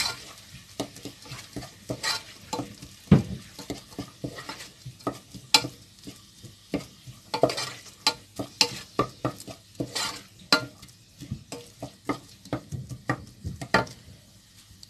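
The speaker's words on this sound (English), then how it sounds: "And I'm going to add my pepper. Everything is going to fry together." Peppers frying in a pan for beans and rice, a soft background sizzle broken by frequent sharp scrapes and knocks of a utensil stirring against the pan.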